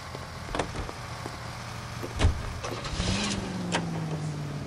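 A car in the video game L.A. Noire, with an engine hum that rises in pitch as it pulls away, a thump like a door and some clicks and knocks, fairly close and with no talk over it.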